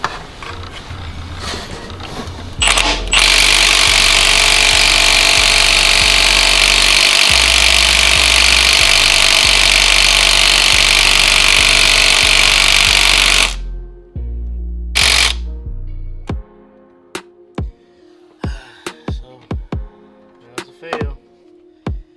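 A thick-wall socket on an impact wrench rated at 250 foot-pounds hammers loose a nut on a Dodge Charger, Challenger or Chrysler 300 V6, one loud sustained rattling burst, then scattered sharp metallic clinks and taps.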